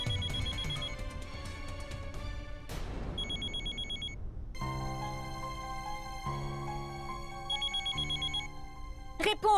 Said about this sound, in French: Réponds au moins au téléphone.